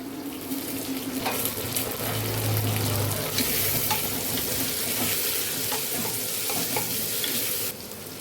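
Tomato, curry leaves and dried chillies sizzle in hot oil in a pan, a steady close frying hiss with stirring scrapes throughout, no talking.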